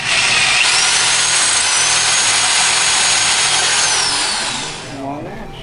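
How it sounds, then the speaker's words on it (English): A power drill bores through the plastic case of an Xbox 360 during a red ring of death repair, a loud continuous whining drone that holds steady for several seconds before winding down at the end. "And we drill."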